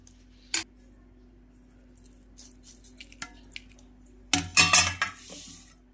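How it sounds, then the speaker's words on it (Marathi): A spoon clinks against a bowl while mung dal batter with baking soda is mixed, giving sparse taps and scrapes, then a louder burst of rapid stirring and clattering near the end, close and otherwise quiet. "छानपैकी असं मिक्स करून घ्यायचं आहे आपल्याला"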